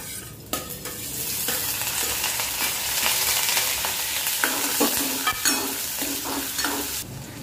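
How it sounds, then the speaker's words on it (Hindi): Cumin seeds and onion hit hot soybean oil for a tadka, giving a loud, dense, close sizzle that holds steady throughout, with a few stirring scrapes toward the end. "तेल अच्छी तरीके से गर्म हो चुका है, इसमें मैं थोड़ा सा जीरा डालूंगी"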